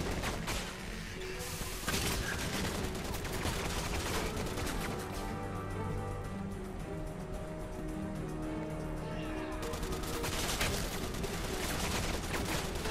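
Gunfire in the video game Resident Evil 6, played on PS3 during a chainsaw monster fight: a dense, continuous barrage of rapid shots mixed with game effects and music, loud throughout.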